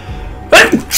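A single loud, close human sneeze, a sharp burst that breaks off and is followed by a brief trailing breath.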